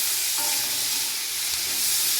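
Spring onion stalks sizzle and fry steadily in a pan, a continuous close hiss with no talking.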